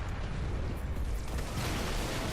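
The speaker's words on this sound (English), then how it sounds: "You see me here driving this Revenant." A Revenant, a small hover tank driven in the video game Halo Reach, gives off a steady, loud, dense roaring rumble with crackling bursts throughout, alone and without talk.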